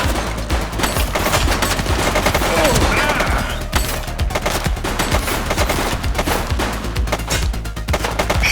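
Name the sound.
gunfire in the video game The Precinct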